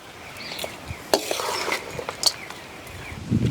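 Lemon rice being stirred in a pan after lemon juice is added, with light scraping and clinking of a spoon against the vessel in short irregular strokes, close and fairly quiet.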